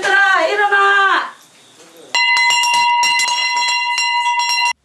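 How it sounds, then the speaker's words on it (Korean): A wake-up bell rings at a youth recovery shelter, a bright sustained metallic tone following a shouted call and a brief pause, continuing steadily for several seconds before cutting off abruptly. "종소리에 청소년들이 하나둘 잠에서 깹니다"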